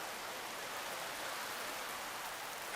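Rain falls steadily in a dense, even hiss during a rain delay at an outdoor FIBA 3x3 World Cup basketball semi-final, with no talking.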